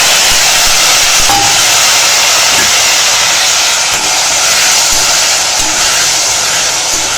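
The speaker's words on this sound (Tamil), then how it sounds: "இப்போது நம்ம இதில் கட் பண்ணி வச்சுருக்கிற தக்காளி சேர்த்துக்கலாம்." Chopped tomatoes hit hot oil with fried urad dal in a pan while making a tomato pachadi, giving a loud, steady sizzle and hiss that runs the whole time with no one speaking.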